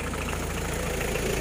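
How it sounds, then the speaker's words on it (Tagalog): A 4x4 Mitsubishi Delica engine idles smoothly, a steady low rumble with even vibration throughout a short stretch and no voices. "Saka tinan nyo naman din po yung tunog ng kanyang makina."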